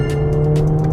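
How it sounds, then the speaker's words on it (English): A Mercedes-AMG A45 S hot hatch with 422 PS drives hard through twisty corners, its engine a loud steady drone close to the microphone, with brief tire noise over a short burst. "I'm driving on these twisty corners and this car just wants to push, it wants to go, go, go"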